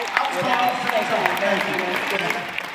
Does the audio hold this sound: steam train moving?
no